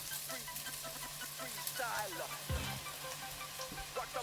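Cream and pasta sauce cooking in a pan give a steady, soft sizzle and bubbling throughout, with a few faint stirring scrapes and clicks near the middle.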